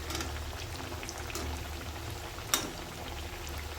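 Soft, steady sizzle and crackle of millet-flour dal baati being sautéed in a pan, a faint even frying hiss with one sharper pop partway through.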